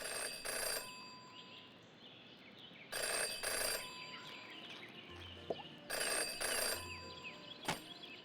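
A telephone rings in the Jenny LeClue detective video game, three distinct paired bursts of ringing spaced a few seconds apart over a quiet ambient background with faint game sounds.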